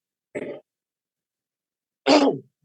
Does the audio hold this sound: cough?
yes